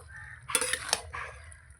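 Shukto with fried bori stirred in a pot: two quick metallic clanks of a spoon against the vessel, close and brief, with soft stirring noise around them.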